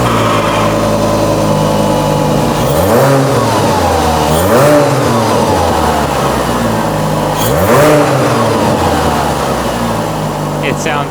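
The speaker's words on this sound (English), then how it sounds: "Now that we've installed our catback exhaust, we want to start it up to see how it sounds" Five-cylinder car engine fitted with a new catback exhaust revving repeatedly, loud and close, with the pitch climbing and dropping in several blips over a constant rumbling idle.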